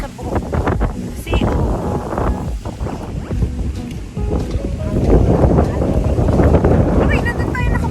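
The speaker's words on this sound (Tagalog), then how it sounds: "Super hangin naman dito." Strong outdoor wind buffets the microphone in loud, continuous low rumbling gusts that swell toward the end, with voices mixed into the roar.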